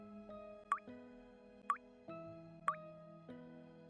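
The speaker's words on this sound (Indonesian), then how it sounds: "Dia dengar suara air netes." Water drips in a sound effect, four evenly spaced drops plinking clearly over a quiet, low sustained drone.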